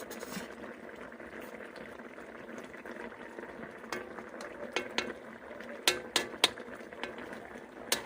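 Coconut milk simmering for Filipino ginataan, a steady soft bubbling hiss with a few louder spoon or pot clinks near the end, close and without voices.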